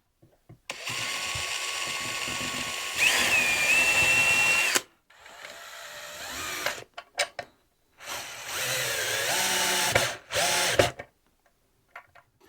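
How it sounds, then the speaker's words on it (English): A power drill drills pilot holes for screws during a Fender Stratocaster guitar build, whirring in several bursts, its pitch rising as the bit bites, with short pauses and clicks between runs, close by. "I'm going to drill some pilot holes in that as well."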